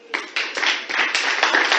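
An audience at an international conference on women's rights claps in an indoor hall, a burst of several hands tapping in an uneven patter, close and continuous.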